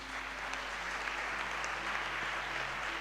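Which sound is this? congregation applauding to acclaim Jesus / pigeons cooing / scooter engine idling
congregation applauding to acclaim Jesus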